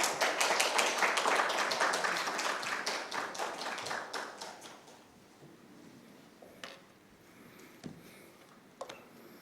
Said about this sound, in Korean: 큰 박수로 한번 격려의 박수 해주시면